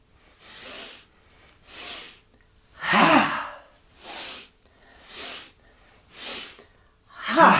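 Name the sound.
Breath of Joy yoga breathing, inhaling and exhaling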